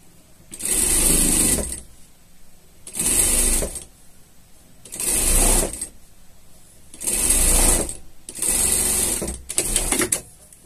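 A sewing machine stitches a beak-like piece onto the hood of unicorn pajamas in five close, loud bursts of fast whirring, each roughly a second long and separated by short quiet pauses.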